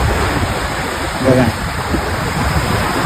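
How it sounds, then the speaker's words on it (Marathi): Sea waves wash onto a beach at midday, a steady broadband roar of surf that swells briefly near the middle, with someone speaking over it. "खूप मस्त मस्त लाटा येतात"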